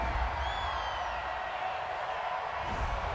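Stadium crowd at a Denver Broncos versus Kansas City Chiefs NFL game reacting to a penalty flag on third down, a broad, steady roar of disapproval from a distance, sustained with faint whistles rising above it.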